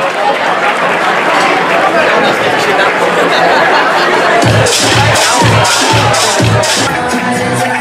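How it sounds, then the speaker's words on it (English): A crowd at an awards dinner breaks into loud applause and cheering for Ollie, a dense, continuous roar of clapping and voices, with rhythmic thumping emerging in the second half. "Everyone, if you could give Ollie a round of applause."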